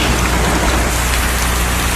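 Rain falls in a steady, dense, loud hiss of drops striking surfaces, unbroken throughout with no voices.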